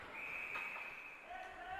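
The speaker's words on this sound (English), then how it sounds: "that brings a whistle and stoppage of play" At a boys' high school ice hockey game between Moorhead and Roseau, a referee's whistle cuts through arena crowd noise with a sustained shrill tone, heard at a distance.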